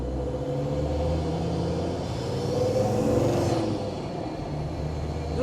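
Land Rover Defender Td5 diesel with an aftermarket VNT turbo on a road test, steady low engine drone and road rumble from inside the cabin with a slight rise in revs midway, no talking.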